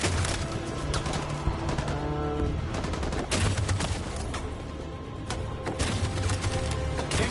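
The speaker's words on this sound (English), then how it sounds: "That machine gun is taking down everything that moves!" Dense, continuous machine gun fire in Detroit: Become Human, loud overlapping volleys of shots with scattered sharper cracks, sustained through the whole stretch.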